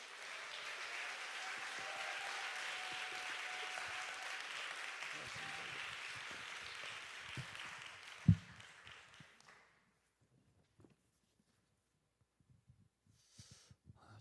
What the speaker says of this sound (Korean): 우리 담임 목사님 올라오실 때 우리 박수와 환호성으로 환영하도록 하겠습니다